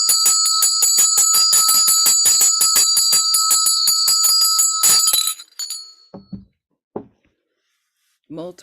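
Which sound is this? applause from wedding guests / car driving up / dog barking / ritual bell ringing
ritual bell ringing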